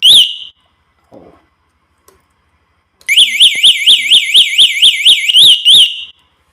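A Vivo electric scooter's alarm gives a short loud chirp, goes quiet, then sounds a close, piercing warbling siren in rapid repeating pulses for about three seconds before it stops.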